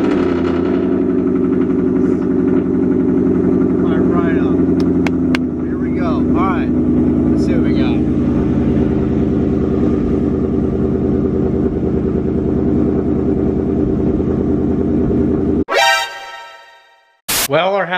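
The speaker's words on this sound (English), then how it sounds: "this is our first cold start. Our first honest, truthful cold start on E85" A 5.2-swapped Mustang GT running on E85 sits idling after a cold start, a steady loud engine drone holding for about fifteen seconds under someone talking, then cutting out abruptly.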